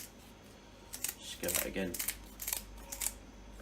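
Kitchen scissors snip along each side of a brill's backbone, giving a run of short crisp cutting sounds close by, with a person talking over them.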